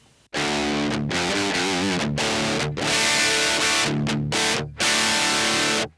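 Electric guitar run straight through a Bluguitar AMP1 pedal with no speaker cabinet, loud overdriven chords strummed and held with brief stops between phrases, bright and buzzy, nothing else heard.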